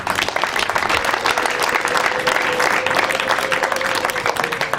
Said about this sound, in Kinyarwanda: Munyemere dukomere Imana amashyi.